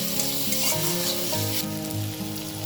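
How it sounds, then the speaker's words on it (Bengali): Spice masala of salt, turmeric and a little sugar sizzles and fries in a pan while being stirred, a close, steady crackle with intermittent scraping. "এবার আমি এই মশলাটা ভালো করে কষিয়ে নেব"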